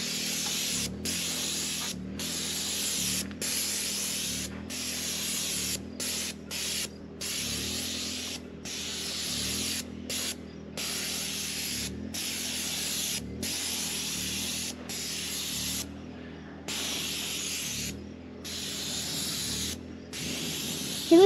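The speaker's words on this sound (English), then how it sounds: "my dad will be spray painting" Steady hissing of a spray can in long bursts, broken by brief pauses, with a faint mechanical rattle and rhythmic clicking underneath.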